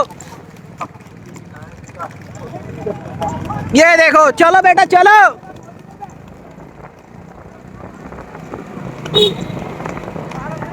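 Three horses' hooves clip-clop at a steady gallop during a horse race, under excited shouting from the watching crowd, with a loud burst of cheering or a horn midway.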